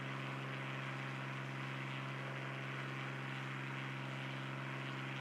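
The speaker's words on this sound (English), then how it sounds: "We'll be taking the Cessna 172 out for that one" Steady, droning hum of a Cessna 172 propeller engine in a flight simulator, a constant low tone with a buzzing overlay and no pauses.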